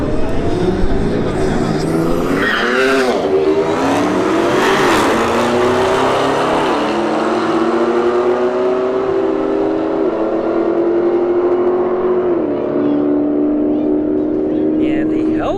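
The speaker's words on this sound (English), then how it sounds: "we got a Beamer in the left lane. Got a Hellcat Charger in the right lane" A BMW and a Dodge Hellcat Charger drag racing at a motorsports park roar loudly up close, engines revving hard and shifting through rising gear pulls for a long stretch, with announcer talk underneath.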